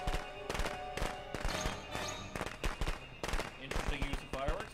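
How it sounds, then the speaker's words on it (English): Fireworks crackling and popping in the Friday the 13th video game, a dense, rapid string of sharp bangs and bursts layered with other game sounds, loud and continuous. "Interesting use of fireworks, but it worked out for him."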